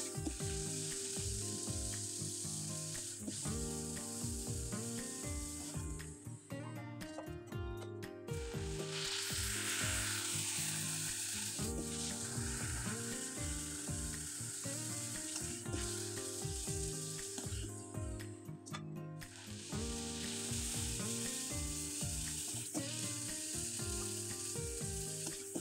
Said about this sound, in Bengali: এই পিঠাগুলো একবারে মুচমুচে করেই ভেজে নিলাম